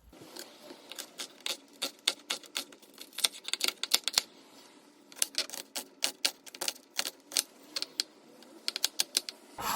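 A knife chops vegetables on a cutting board while tomato soup is being made, giving rapid, irregular, close-up taps with no talking.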